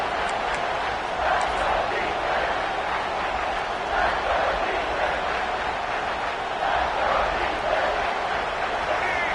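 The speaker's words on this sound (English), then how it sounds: "the crowd coming to life here, trying to help this defense down in the red zone" A steady, loud stadium crowd roars throughout at a college football game between NC State and Clemson in the Textile Bowl. The cheering swells while the defense holds in the red zone, and a commentator talks over the noise.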